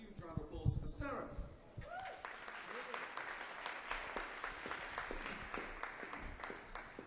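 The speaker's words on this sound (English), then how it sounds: "give a huge round of applause for Sarah" Audience applause at a stage production as performers leave the stage, a dense, even patter of clapping sustained throughout after a brief spoken voice at the start.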